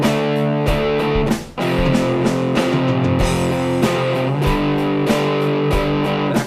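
Distorted electric guitar plays the pre-chorus of a rock song, loud chord stabs in a steady driving rhythm with a brief dropout near the start.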